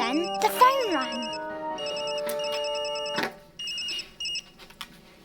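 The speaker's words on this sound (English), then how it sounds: "Just then, the phone rang." A telephone rings in a children's cartoon set in the countryside, with repeated bursts of bright electronic trilling mixed with musical tones and sound effects.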